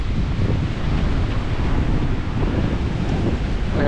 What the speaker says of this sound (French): Il y a un bon vent de face là.